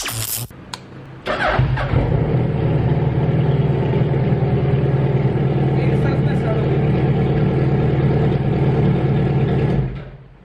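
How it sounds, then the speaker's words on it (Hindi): A motorcycle engine, just repaired after a battery problem, cranks and catches after a brief pause, then runs at a steady, loud idle close by for several seconds before cutting off. "फाइनली बैटरी इशू सॉल्व हो चुका है बाइक का अपना, और स्टार्ट हो गई है।"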